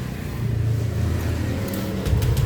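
Honda Vario 125/150 scooter being started, a steady low engine hum running throughout, with a brief rise near the end, close and moderately loud.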